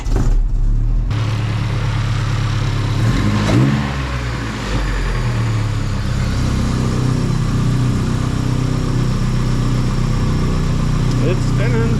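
A 1978 Datsun 620 4x4 pickup with a KA24E engine cranks and starts, then settles into a steady, loud, continuous idle that stays close to the microphone throughout. Voices talk briefly over the running engine.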